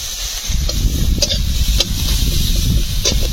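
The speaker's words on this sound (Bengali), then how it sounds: "আমার তেল রেডি হয়ে গেছে, এবার আমি পেঁয়াজটা প্রথম দিয়ে দেবো" Onion dropped into ready hot oil for a small crab and potato curry, giving a steady, close broadband sizzle with a few brief crackles and no voices.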